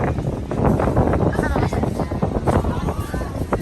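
Steady coastal wind at Brighton buffeting the microphone, a dense low rumble filling the whole clip with no voices.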